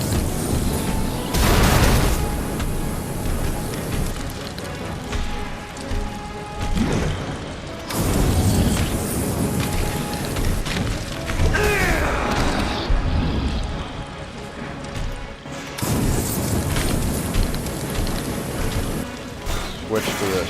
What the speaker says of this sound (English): so I'm going to go ahead and use the flamethrower.